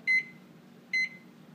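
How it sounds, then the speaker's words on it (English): Microwave oven in a home kitchen giving two short, clear electronic beeps about a second apart over a faint, low running hum, with no talking. "So we put this in the microwave"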